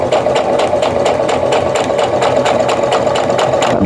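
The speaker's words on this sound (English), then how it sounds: "Sewing right up to that pin and then removing it." A sewing machine stitching a quilt block for flying geese, a loud rapid mechanical chatter with evenly spaced needle strokes running steadily throughout, no talking.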